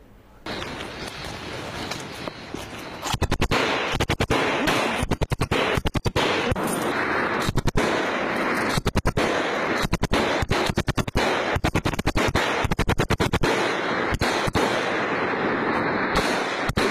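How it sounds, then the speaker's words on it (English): Heavy gunfire exchanged along the Line of Control, a loud continuous roar broken by dense, rapid cracks and bursts that keep going throughout with no voices. "Our braves under heavy gunfire exchange,"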